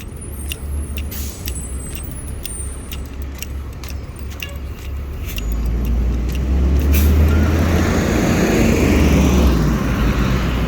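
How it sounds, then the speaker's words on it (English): City buses pass a campus crosswalk at UC Santa Cruz, a steady close diesel engine rumble that swells louder halfway through, with hissing bursts of air brakes over continuous traffic noise. "Friar, there's so many buses."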